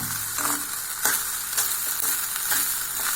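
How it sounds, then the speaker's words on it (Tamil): Egg fried rice being stirred in a hot pan with the handle end of a ladle: a steady sizzle runs throughout, broken by repeated scraping strokes at a fairly even rhythm, close and clear, with no talking. "இந்த கரண்டி காம்பால் தாங்க நம்ம கலரணும், இல்லாட்டி சாதம் வந்து உடஞ்சி போயிடுங்க"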